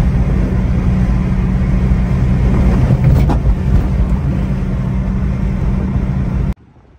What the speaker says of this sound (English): Every day I pull out this drive, I drag the frame, bro.